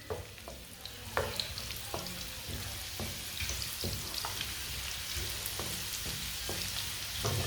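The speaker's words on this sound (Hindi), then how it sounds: "प्याज को 1 मिनट के लिए पका लेते हैं" Finely chopped onion fries in a pan with a steady crackling sizzle, broken by frequent light clicks and scrapes from stirring, close up with no talking.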